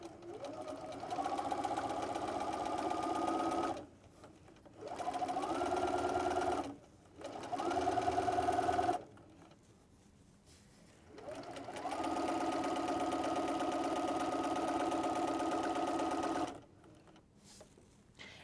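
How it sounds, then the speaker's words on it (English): A sewing machine stitches a t-shirt quilt seam in four steady bursts of close, even whirring, with short pauses between runs and a longer gap before the final, longest stretch. "put it under the machine and sew from one end to the other"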